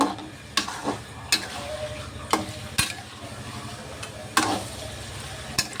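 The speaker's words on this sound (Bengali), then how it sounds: "এই মাথা দুটো দিয়ে আমি অনেক সময় ধরে কষে নিয়েছি" Bhetki fish heads are sautéed in a pan with potatoes, with a low continuous sizzle broken by sharp scraping stirs and knocks of a spatula against the pan at irregular intervals.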